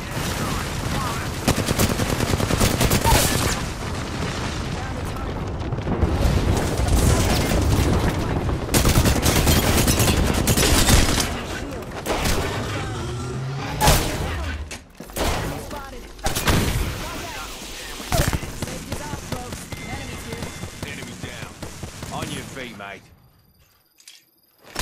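Artillery strike and gunfire in the Apex Legends battle royale game: dense bursts of automatic fire and heavy booming impacts go on without a break for most of the stretch, loud and close, then die away near the end.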